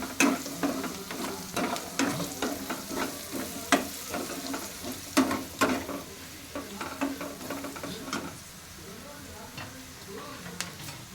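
A spice and chili mixture for Rayalaseema-style bendakaya fry sizzles gently in a pan over a low flame, with a steady rhythm of spoon taps and scrapes that slows and thins toward the end.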